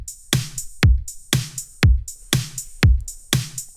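Drums heavily squashed by a Parallel Aggressor compressor plugin play a steady groove, punchy kicks alternating with bright snare hits at a regular pace, soloed and loud with no voices.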